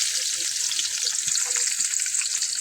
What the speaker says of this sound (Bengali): কড়াইতে পেঁয়াজ দিয়ে দিই